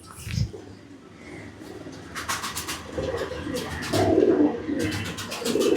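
Pakistani teddy pigeons coo softly inside a loft, with overlapping throaty calls and a few brief chirps against quiet background rustle.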